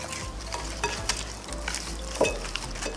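Seasonings, including garlic powder, being stirred and mixed in a bowl for Peruvian tallarines rojos, with repeated scraping strokes and soft clinks, close and alone with no talking.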